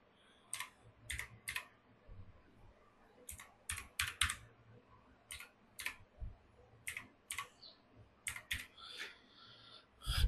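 Someone types a website address on a computer keyboard while filling in a social media profile. Short clusters of crisp, close keystrokes come in irregular bursts separated by brief pauses, with no talk.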